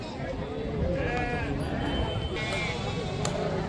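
A lamb bleats in short wavering cries at a busy sheep market, amid crowd chatter and people talking nearby.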